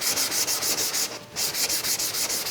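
Sheet of 120-grit sandpaper rubbed back and forth over wood on a gardening tool handle, close and steady, a fast rhythmic scratchy swish with a brief pause midway before the strokes resume.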